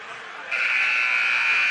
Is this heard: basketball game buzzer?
yes